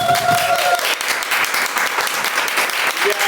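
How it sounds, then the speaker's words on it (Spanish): Steady applause from many hands as a sound effect in a children's story about field mice, a dense even clapping that holds for several seconds with a brief tone at the start. "sus hermanos ratoncitos aplaudieron."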